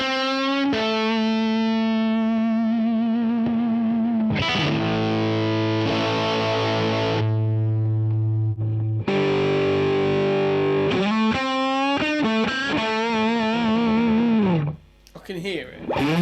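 Electric guitar played through a UAFX Lion amp pedal with a thick, distorted tone, sustained chords and single notes ringing out loud and close, alone with no talking.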